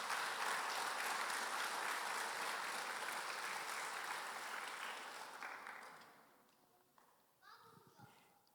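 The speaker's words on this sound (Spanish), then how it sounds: "Den un aplauso a Dios entonces por ello, por favor." A church congregation applauding during a sermon, a loud, dense wash of clapping that holds steady for several seconds before fading away, leaving a few faint voices and stray sounds.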